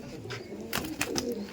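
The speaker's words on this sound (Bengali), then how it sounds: "দেখুন 4টে লালদম পায়রা।" Laldom pigeons, four birds held up for show, give low throaty coos with a few sharper rustling bursts in between, close and moderately loud over a short stretch.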